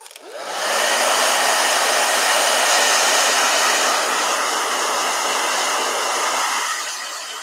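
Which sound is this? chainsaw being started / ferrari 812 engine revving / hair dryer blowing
hair dryer blowing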